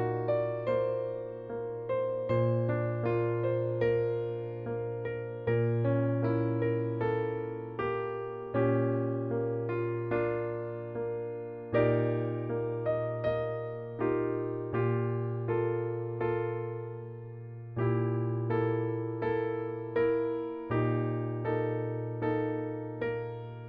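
Solo piano plays the opening part of a song, a slow melody over sustained low chords that are restruck every few seconds, close and clear with no voices.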